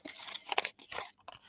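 Sheets of paper play money for an art project being crunched and crumpled by hand, a series of close, crackly bursts with short pauses between them, no talking.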